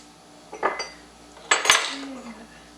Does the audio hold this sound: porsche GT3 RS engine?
no